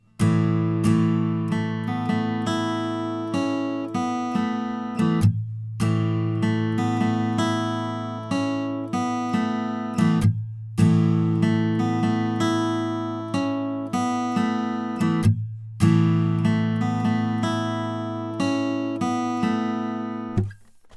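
An acoustic guitar plays the riff-based intro to a song, a bright, steady pattern repeated four times with brief gaps between passes, clear and close with no talking.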